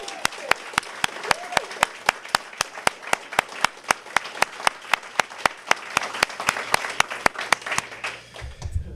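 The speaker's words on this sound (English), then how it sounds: "Let's give them a bigger round of applause here." Steady rhythmic clapping from a crowd at a Fourth of July ceremony honoring frontline workers, evenly spaced sharp claps continuing for several seconds over a faint background murmur.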